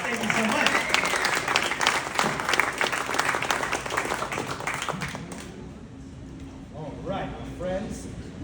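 Audience applause at an installation entertainment event, dense clapping from a room full of people for about five seconds, then thinning out into scattered claps and faint voices.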